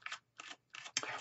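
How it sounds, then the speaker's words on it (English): Tarot cards are shuffled by hand during a live reading: three quick, crisp riffling bursts, each about a fifth of a second, separated by short pauses, close and fairly soft with no talk. "We're shuffling live so that you're a witness."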